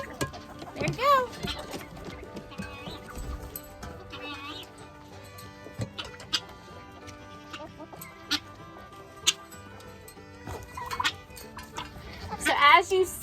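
Backyard laying hens cluck and squawk while crowding around a feed trough of hot, spicy chicken stew, with sharp calls bursting over a nearby person talking.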